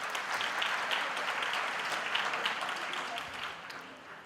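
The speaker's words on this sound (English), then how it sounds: "Can we just please give them a round of applause for their achievements?" A graduation ceremony crowd at Walter Sisulu University gives a round of applause for graduates' achievements, a dense, sustained roar of many hands clapping in a large hall that fades gradually toward the close.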